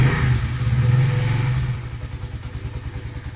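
A cold-started Lexmoto motorcycle engine with the choke on sits nearby, a loud low putter settling into a steady, even idle rhythm.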